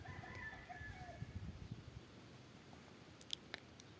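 Chickens in a rural courtyard being plastered with black cow dung and mud, a faint rooster-like call at the start followed by quiet scratching and a few soft clucks at a distance.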